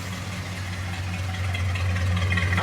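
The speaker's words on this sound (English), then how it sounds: "Let's see what the exhaust sounds like." A 1969 Ford F100 truck idles with a steady low exhaust rumble, close and continuous, first start in years after a bad coil.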